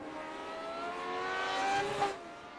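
A Ligier race car runs around the track, its engine a steady high whine that climbs slightly in pitch as it nears, swelling to a peak and then easing off as it passes.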